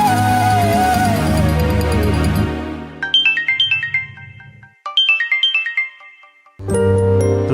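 A mobile phone ringtone plays in a Kannada television drama scene: a melodic chiming tune that repeats twice in clear phrases after a fading musical passage, then louder music cuts back in.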